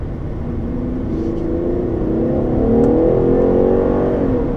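A 2013 Chevrolet Impala 1LTZ engine revs hard and steadily under acceleration, the pitch climbing through slow gear changes, loud and close from inside the car with no talking.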